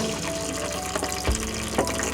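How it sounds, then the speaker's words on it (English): A Winnebago EKKO RV toilet flushes with a steady rush and gurgle of water and a pump-like whir, close and fairly loud, with a couple of soft knocks, and no talk. "Flush it down."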